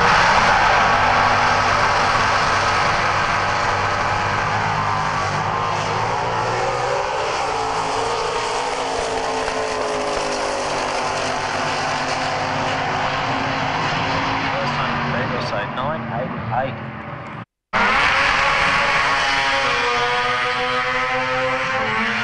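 A drag racing car with cylinder heads and a precision turbo makes a solo run at a bracket racing event, a loud sustained engine roar building and shifting pitch before cutting off sharply, then resuming with a commentator talking over it.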